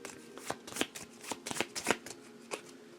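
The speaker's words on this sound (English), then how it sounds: "Shuffle what's left, which isn't much." A deck of game cards for a Marvel Champions tabletop match is shuffled in quick, crisp riffles and bursts, soft and close, with short pauses between the flurries of papery flicks.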